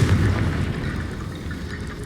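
A Confringo blasting spell goes off in Hogwarts Legacy, a loud, booming fiery explosion that hits hard at the start and rumbles away over the following two seconds.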